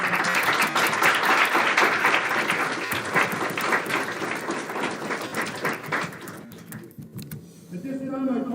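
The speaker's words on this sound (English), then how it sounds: "A round of applause for our staff at Central A&M." A large audience at a high school class of 2021 graduation ceremony claps loudly for the school staff, a dense sustained round of applause that tapers off near the end.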